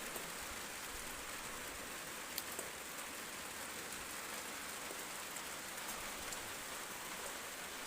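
Steady rain falls evenly across the whole stretch on an orchard, a soft continuous hiss with scattered drops and no voices.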